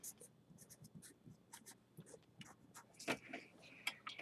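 A marker squeaks and scratches across a periodic table worksheet in short strokes, with brief faint whispers or murmurs in the background of a classroom.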